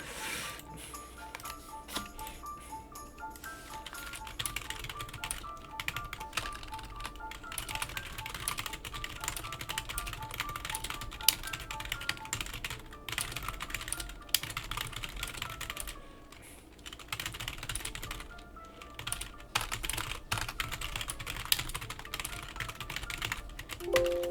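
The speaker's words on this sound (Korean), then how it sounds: "약간 타자 소리가 좀 들어가는 점 죄송하고요" Steady typing on a computer keyboard clatters on for over twenty seconds, a dense run of quick, fairly faint keystrokes with brief pauses, heard close up and without talk.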